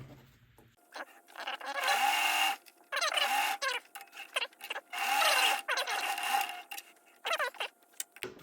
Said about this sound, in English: I'm going to sew right sides together